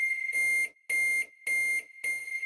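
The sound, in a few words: microwave timer beeping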